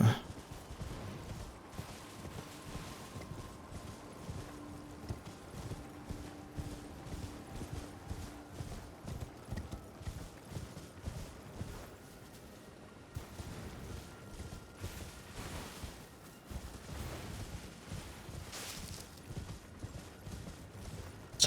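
Horse hooves clopping steadily in the video game Elden Ring, a continuous rhythmic patter at moderate loudness with game ambience and a low tonal hum, briefly pausing around the middle before resuming.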